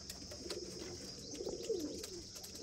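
Pigeons coo softly at close range, with a few low, rolling coos over a quiet background and no voices.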